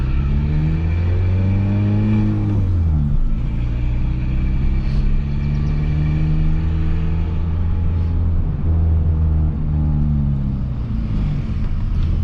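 Peugeot 206 1.4 with a straight-pipe exhaust driving at higher revs: a loud, close, raspy engine drone that climbs and dips with throttle changes and gear shifts, steady and unbroken, with no voices over it.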